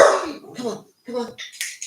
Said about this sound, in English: My dog's with me. The postman's off here.